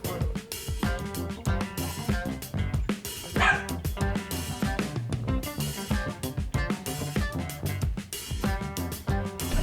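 A dog barks and yips repeatedly among busy music and noise, with a few short whimpers mixed in.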